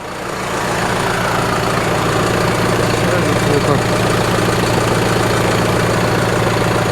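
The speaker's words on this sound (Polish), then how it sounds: "Silniczek ładnie dosyć pracuje, równo." A 10-year-old tractor engine idles evenly after repair, a loud, steady, continuous hum heard close up with no breaks.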